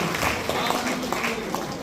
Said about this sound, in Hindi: एक बार जोरदार तालियां उनके संघर्ष यात्रा के लिए